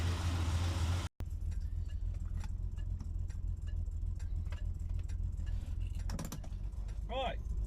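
A Triumph 2000 fitted with electronic ignition and a new distributor idles after a cold start. Its low, steady rumble carries light mechanical ticking, following a loud opening burst that cuts off sharply.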